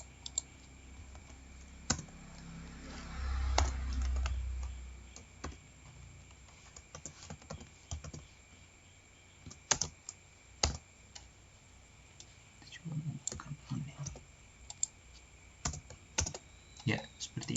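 Someone types code on a computer keyboard while programming an ATmega328P AVR microcontroller, giving scattered, irregular soft key clicks with pauses and a denser burst near the end, over a low background hum.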